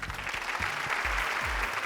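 A game show studio audience gives steady, dense applause that carries on at an even level with no talk over it.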